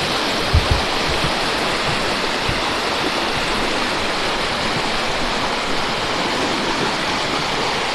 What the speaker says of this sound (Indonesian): mungkin suara kita terbatas karena saking kerasnya aliran airnya dari sungai